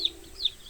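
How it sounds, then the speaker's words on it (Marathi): A village hen in a Marathi kids' cartoon gives two short, high clucks close by, with a quiet gap between them. "गावातली गावराणी कोंबडी, मजा येईल"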